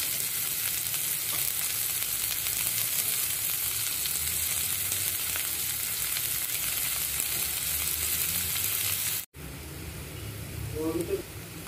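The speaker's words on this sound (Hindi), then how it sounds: "तो इस ऑयल में सबसे पहले मैं डाल दूंगी जीरा, और जीरा तड़कने के बाद हम इसमें डालेंगे अनियन यानी कि प्याज" Onions and cumin seeds frying in hot oil, a dense steady sizzle throughout, with a brief break near the end where stirring is faintly audible.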